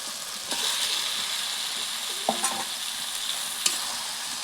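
Marinated mutton goes into a hot pan of cooked-down spices for a Bengali mutton curry, setting off a steady, loud sizzle with occasional sharper spatters and stirring clinks, no voices.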